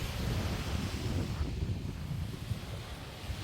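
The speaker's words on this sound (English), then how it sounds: "Getting a nice cool breeze." Steady cool sea breeze at a Jamaican beach resort under tiki huts, a continuous low wind rush buffeting the microphone with faint surf beneath, no talking.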